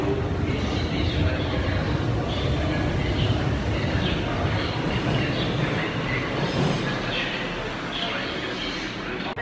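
A Paris metro train rides through the underground with a steady loud rumble of wheels and carriage noise, rattling throughout and easing slightly toward the end.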